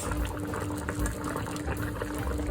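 Chicken fricassee stew simmering in a pot, a continuous bubbling, burbling wash of liquid heard close and alone, without talk.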